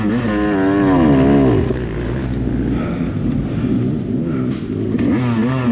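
Dirt bike engine during a hare scramble race, loud and close, revving up and down in wavering pitch sweeps before settling into a rough, steady drone on a steep hill, no talking.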